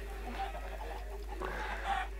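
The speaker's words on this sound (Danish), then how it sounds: "Oh my god, så kommer jeg til at dræbe en kylling." A blocky Minecraft chicken clucks faintly in a Hypixel party game, a few soft calls over a low steady hum with no talk.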